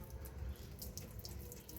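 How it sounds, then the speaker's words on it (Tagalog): Water drains from the radiator drain plug of a Toyota Hilux 3.0 D4D 4x4 automatic, a continuous close splashing trickle with faint drips, steady and alone throughout. "Drain natin yung tubig."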